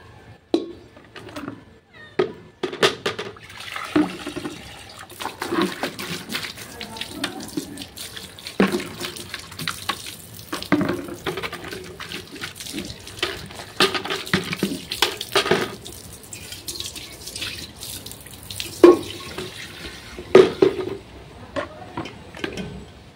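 Water runs from a tap while drinking water is collected, a faint continuous trickle broken by intermittent clanks and knocks of containers.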